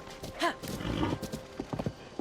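Horse hooves clip-clop in Zelda: Tears of the Kingdom, with a short whinny early on, followed by a run of rhythmic hoof beats, fairly close and moderately loud.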